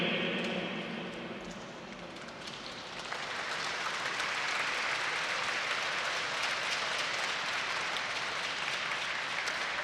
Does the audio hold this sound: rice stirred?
no